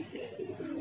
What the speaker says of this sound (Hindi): बहुत तेज़ी से उतर रहा है ये कबूतर